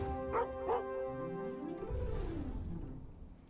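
A small dog-like creature in a video game casts a storm spell, giving two sharp yipping barks followed by a loud rising and falling whine that fades over a few seconds.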